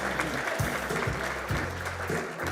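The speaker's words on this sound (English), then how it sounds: "Y'all can clap for Alexandria." Audience applause at the 2024 STEMmy Awards for Alexandria Turner, a steady wash of clapping through the whole stretch with low music pulsing underneath.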